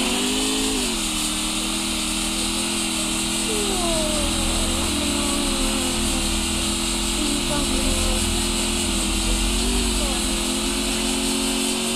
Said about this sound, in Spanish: Me voy en una moto.